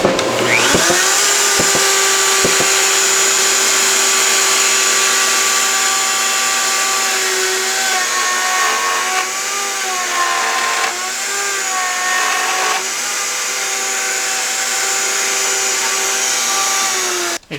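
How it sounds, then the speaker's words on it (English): A power tool whines loud and steady while cutting a mortise in Baltic birch plywood, holding a near-constant pitch that sags slightly under load mid-cut before winding down at the end. "now I'm ready to cut the mortise on the other end"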